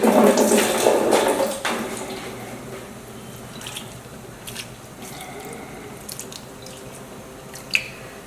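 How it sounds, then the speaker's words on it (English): Water is poured into a cooking pot while okra stew is prepared, a loud splashing rush for about a second and a half that fades into quiet kitchen clatter and faint drips. "let's add a little bit of water"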